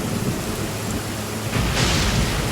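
Rain and thunder in the video game Genshin Impact: a steady wash of rainfall with low rumbling, swelling louder and brighter about halfway through, with no voices.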